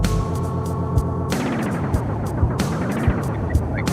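Roland SP-404 MK2 sampler running its DJ looper effect on a beat, a steady sustained chordal loop that switches abruptly to a chopped, stuttering repeat around midway, with punchy low kicks landing at regular intervals throughout.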